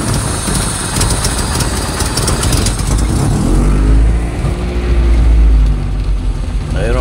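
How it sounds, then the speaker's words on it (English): A Honda Civic with a B20 engine and Yonaka exhaust idles steadily and loudly up close, its exhaust leak giving a rough, ticking note with a few small rises in revs and no talk. "Definitely hear exhaust leak under here somewhere."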